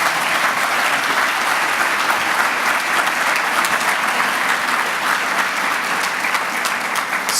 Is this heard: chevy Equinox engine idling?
no